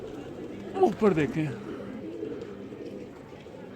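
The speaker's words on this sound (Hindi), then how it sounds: "वो उड़ रहे हैं कबूतर।" Pigeons at a rooftop loft coo in a short burst of soft, throaty calls while someone speaks nearby, the cooing rising briefly over a low steady background.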